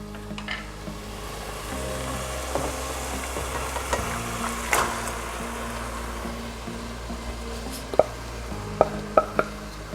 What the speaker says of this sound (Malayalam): ഇനി നമുക്കിതിലോട്ട് ചിക്കൻ ചേർക്കാം.